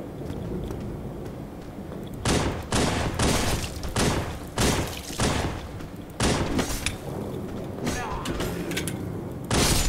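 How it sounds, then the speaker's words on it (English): Gunfire in an Asylum Mod shooter game comes as a series of loud, sharp bursts and single shots, clustered in rapid volleys with short gaps between them, close and dominant over a low background. "I shot something behind him."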